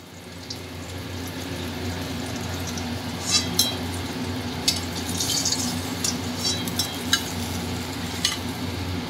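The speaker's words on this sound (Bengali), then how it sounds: "মানে দুটো দুটো করে সব এইভাবে ভেজে নেওয়া হবে মাছটা।" Koi fish frying in a pan of hot oil, two at a time, giving a steady close sizzle with occasional sharp spits and clinks from the pan.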